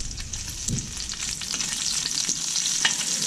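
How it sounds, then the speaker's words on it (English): Onions frying in oil over medium heat for a chicken and vegetable stir fry, a steady close sizzle with scattered crackles and a few stirring scrapes, no voices. "I'm going to add my onions. I don't want it to cook really fast, so I'm cooking this on medium heat."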